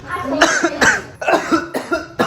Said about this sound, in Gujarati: ઉધરસ થઈ ગઈ મિત્રો.